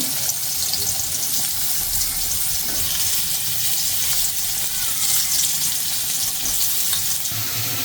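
Pointed gourd (potol) pieces fry in a pan with a loud, continuous sizzle, close up, along with faint occasional stirring scrapes.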